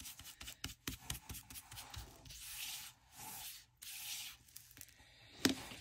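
Paper edges of a journal card pocket being distressed: quick rubbing and scraping strokes in short bursts, then longer sanding-like swipes, close and soft, with no talk.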